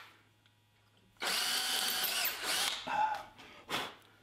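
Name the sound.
hand crank screwdriver drilling holes for a flintlock butt plate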